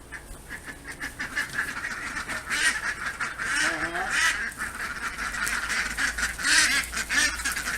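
Ducks quacking outdoors, a busy run of loud, overlapping honking quacks and calls that continue throughout without pause.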